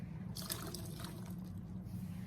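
Great northern beans are poured into a stew pot, a loose, hissing rattle that swells, then trails off over a steady low hum.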